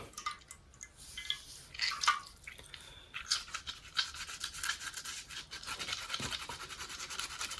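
Rhythmic scrubbing of a gas stove burner, brisk bristly strokes rubbing in uneven bursts with faint wet squishing, close and moderately loud.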